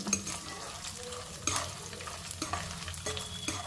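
Four dried red chillies fry in hot oil for a tempering for pulihora pulusu, giving a steady crackling sizzle with stirring clicks and scrapes throughout, close and moderately loud, with no talk.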